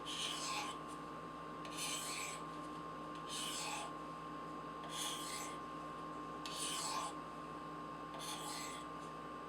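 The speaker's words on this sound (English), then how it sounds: "let's just hone it real quick and see what we can do." A Spyderco Pacific Salt folding knife with H-1 steel is honed with edge-trailing strokes: six steady, evenly spaced rasping swipes, each about a second apart, close and alone over a faint constant hum.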